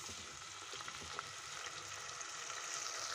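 Blended liver and spice paste poured into a hot wok fries with a continuous soft sizzle, faint and steady throughout, with no talk.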